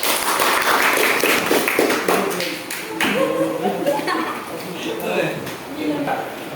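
Applause from a classroom group for the third team in a school lesson on stopping bullying, a burst of claps with a few chuckles and voices mixed in, fading into the teacher speaking again.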